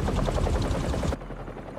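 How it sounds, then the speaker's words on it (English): Helicopter blades chop in the Marvel's Spider-Man 2 video game, a fast, loud, pulsing low thump that runs steadily, then drops to a duller, quieter rumble near the end. "a helicopter's blades."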